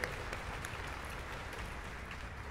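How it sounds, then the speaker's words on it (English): People in the audience at a high school music festival clap for the performers again, a soft, even spread of applause with little variation, heard from a distance. "you can clap for them again"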